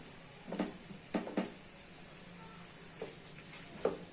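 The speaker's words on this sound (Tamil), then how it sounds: "இப்போ நான் இந்த புதினாவும் கொத்தமல்லி கொஞ்சம் போட்டுக்கிறேன்." Chicken sautéing with mint and coriander in a pan gives a faint, steady sizzle, broken by a few soft scraping stirs and clinks at irregular intervals.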